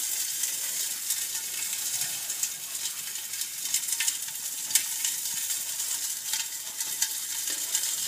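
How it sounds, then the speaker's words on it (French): Hot oil spits and crackles steadily around chicken frying in a pan, a dense, continuous sizzle with scattered sharp pops, close and fairly loud with no voices. "ça gicle de partout l'huile, ça"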